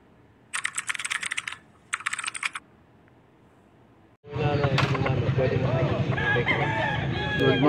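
A rooster crows amid a busy, noisy chicken market in Angeles, Pampanga, with people talking, after a few brief clattering bursts in quiet.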